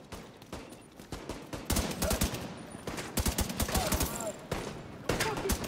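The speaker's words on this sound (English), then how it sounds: "Chill out, you're shooting me." Gunfire from a firefight in The Division 2 around Washington's Federal Triangle, with repeated sharp shots and rapid bursts cracking near and loud across the clip.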